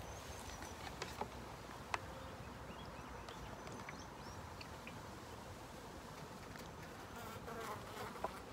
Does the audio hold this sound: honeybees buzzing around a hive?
yes